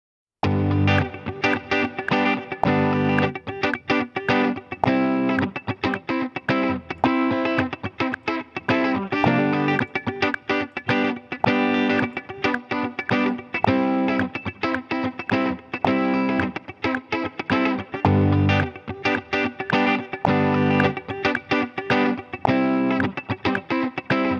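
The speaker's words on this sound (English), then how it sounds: "Do some spring reverb." An electric guitar played through the Helix Native plugin continuously for a long stretch, loud and drenched in a splashy, twangy spring reverb with some grit.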